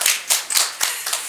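Hand clapping at a youth policy meeting, a handful of sharp, close claps in a quick irregular rhythm over about a second.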